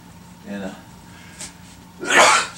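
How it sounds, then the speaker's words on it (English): A single sharp sneeze bursts out near the end, loud and close, after a faint breath and brief murmur in a quiet room during an engineering lecture on a cantilevered massive beam. "I don't think you're supposed to sneeze in the middle of videos"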